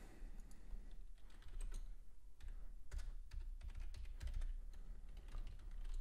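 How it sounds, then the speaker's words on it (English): Rapid typing on a computer keyboard, quiet clicking keystrokes in irregular bursts with no voices. "If you do hear typing, that is just me making those alerts to the community."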